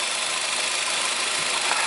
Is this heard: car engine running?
yes